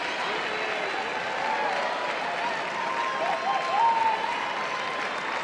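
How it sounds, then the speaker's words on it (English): Crowd in the arena at the Westminster Dog Show cheering and applauding for a dog in the ring, a steady distant wash of noise with a commentator talking over it. "Oh, the crowd loves Bean. Chanting his name already."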